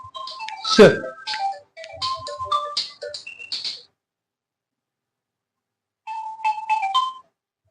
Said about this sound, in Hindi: इसको एक फोन आ गया इसलिए सॉरी फॉर इंटरप्शन